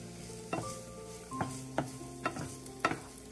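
Chopped onion frying over low to medium heat in a pan, with soft steady sizzling broken by several sharp stirring scrapes and knocks of a spoon, close by, no voices.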